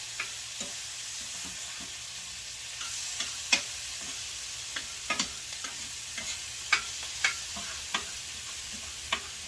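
Onions and peppers frying in a pot for Guyanese cook-up rice, a steady soft sizzle broken by sharp clicks and scrapes from stirring, with no voices.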